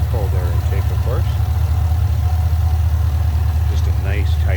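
A supercharged 6.2-liter V8 in a 2010 Chevrolet Camaro SS SLP ZL575 coupe with a cold air intake idles smoothly in a steady low rumble while someone talks over it.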